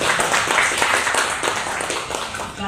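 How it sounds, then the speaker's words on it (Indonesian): Sustained applause from a live audience at an interactive Indonesian talk session with a guest speaker, steady dense clapping filling the whole stretch with faint background voices. "Saya mau minta tepuk tangannya lagi dong teman-teman."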